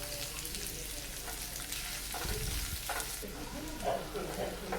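Chopped large onion hits a hot pan for white sauce pasta and sizzles steadily, a broad frying hiss with a brief louder burst and faint stirring scrapes, no talk over it.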